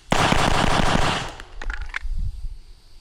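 A rapid string of loud, close gunshots fires at an outdoor shooting range during drills, a dense burst for about a second followed by a couple of fainter pops and ringing.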